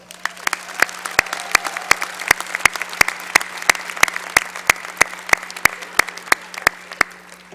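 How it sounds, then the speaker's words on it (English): A crowd applauds at a business school winter commencement, with sharp, rhythmic, evenly spaced claps standing out over a dense background of clapping that continues steadily for several seconds. "Give yourselves a big round of applause."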